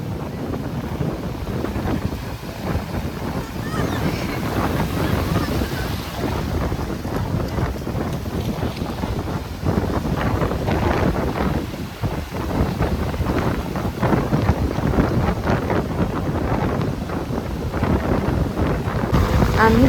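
Sea waves washing onto a beach at Diveagar on a windy evening, a loud continuous roar of surf with heavy wind buffeting the microphone throughout.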